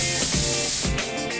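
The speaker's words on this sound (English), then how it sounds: "I hope this spray helps me" Hair spray hisses out in a couple of quick bursts, close and bright, with a short trailing puff at the end and no talking.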